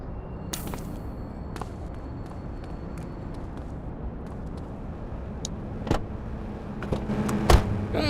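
A car driven in the police video game The Precinct on PS5, a steady low engine and road rumble with a few sharp knocks and thumps, building slightly louder toward the end, no talking.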